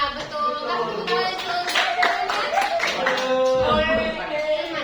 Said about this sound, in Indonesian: kasih tepuk tangan untuk Ilman.